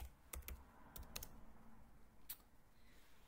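Keys tapped on a computer keyboard while entering text in a PowerPoint slide: a few irregular bursts of clicks with pauses between them, close and fairly quiet, with no talking.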